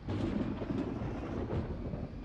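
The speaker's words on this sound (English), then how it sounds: "That's lightning." Thunder from lightning in the city-building game Cities: Skylines rolls as a low, rumbling, sustained crackle, faint and distant-sounding, with no talk over it.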